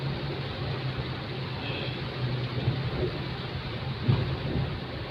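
Steady rain hisses down over a low rumbling background, with a soft thump near the end.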